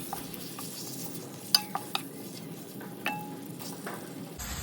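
Ground pork is sautéed with onion in a pan for pancit palabok, giving a steady sizzle with a few sharp clinks of a utensil against the pan.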